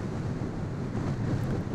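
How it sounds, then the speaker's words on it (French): Strong wind roars across a desert rally stage among sand dunes, a steady, loud rushing gust buffeting the microphone throughout with no voices. "Beaucoup de vent et beaucoup de sable pour cette deuxième étape."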